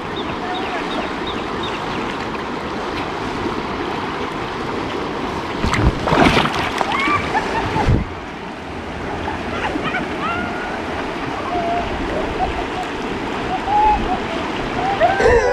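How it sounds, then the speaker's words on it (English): Rushing river water and big waves surge steadily around tubers, with a louder splashing burst midway; people are chatting faintly in the background. "No rocks there, it was all just big waves."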